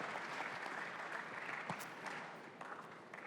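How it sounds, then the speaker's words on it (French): A crowd at a design panel event applauding steadily, dense clapping throughout at moderate volume, with no voices standing out. "On les applaudit, bien entendu,"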